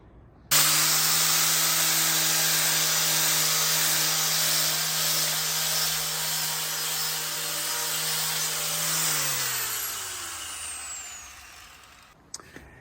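A power tool on a jig cuts through porcelain tile for a feature wall, making a loud, steady whine that runs for several seconds and then winds down as the blade spins to a stop.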